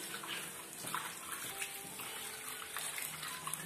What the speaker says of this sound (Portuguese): E a gente vai passar uma segunda água nele.